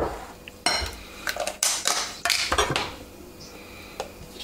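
Mascarpone is stirred into a bowl of whisked sugar, vanilla and egg mixture for a tiramisu, giving a series of close, uneven scraping and clinking utensil strokes against the bowl.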